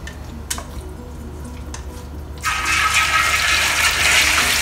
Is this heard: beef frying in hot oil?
yes